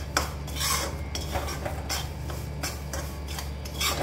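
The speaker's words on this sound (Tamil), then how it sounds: "பாருங்கள் கடலை மாவு நல்லா வறுப்படுது" Gram flour roasting in a pan for halwa, with repeated scraping and stirring strokes of a utensil against the metal, close and steady over a low background hum.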